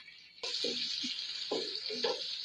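A medium onion dropped into hot ghee with whole cumin seeds: a sudden loud sizzle begins and keeps going, with soft stirring clatter beneath it.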